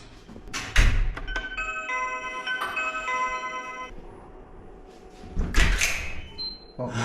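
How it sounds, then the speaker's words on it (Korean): An apartment door is opened, with a heavy thunk and a latch clack near the start, then a ringing electronic chime from the door lock, followed by another solid thud as it swings, all close and fairly loud. "이렇게 문을 열면"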